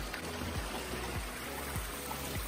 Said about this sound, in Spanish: como arroyo que va bajando por aquí de un lago